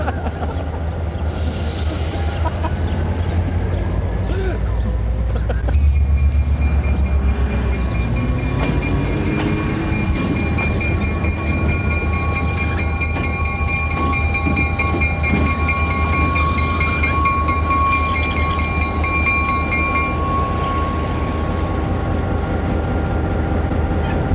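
SD40 diesel locomotive backing onto a train, with a loud steady engine rumble, metallic squeals and clanks of moving rail cars, and faint voices in the background.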